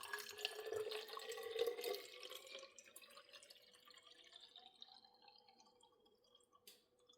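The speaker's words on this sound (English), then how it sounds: "Take the spring water, pour it into your unit up to the line." Spring water poured from a glass bottle into a portable hydrogen water unit, a bright filling trickle whose pitch rises as the vessel fills, then tapering off to a few quiet drips.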